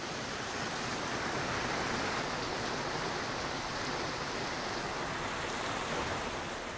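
Heavy monsoon rain pours over the Khanapur ghat area as a dense, even roar of steady broadband hiss with no breaks or voices.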